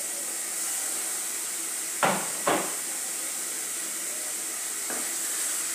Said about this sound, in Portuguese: Aí deixa ele fritar.